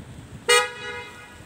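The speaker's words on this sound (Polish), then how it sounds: "Człowiek idzie drogą, a to na niego trąbi kierowca." Car horn sounding from a driver at a pedestrian walking along a road: a single short, sharp honk that fades quickly against quiet outdoor background.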